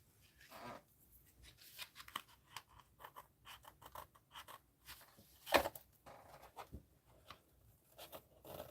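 Scissors cut paper for a Christmas mixed-media craft: a quiet run of irregular snips and scratchy rasps, with one sharper, louder cut partway through.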